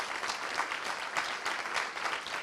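Conference audience applauding the organizing team, a dense, steady wash of many hands clapping at moderate distance, sustained without a break and with no voices over it.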